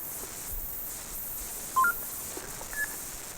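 A couple of short electronic beeps sound from a nearby ski pass scanner at a ski area entrance against a quiet background hiss.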